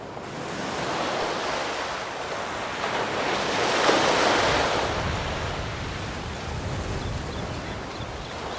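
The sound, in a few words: sea waves in A Plague Tail: Requiem video game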